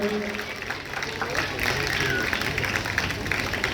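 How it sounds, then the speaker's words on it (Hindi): A village gathering welcomes Vinod Babli, brother of cabinet minister Babli, with a steady patter of crowd applause that runs throughout, mixed with voices talking over it. "एक बार चाहूंगा कि आप जोरदार ताली बजाकर विनोद जी का अभिनंदन करें।"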